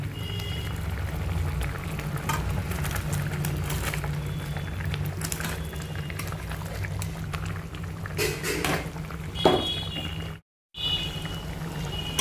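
Butter chicken gravy bubbles and spits in the pan as fried chicken goes in, a soft continuous simmer with scattered pops and a brief clatter near the end.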